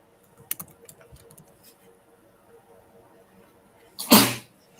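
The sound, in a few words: sneeze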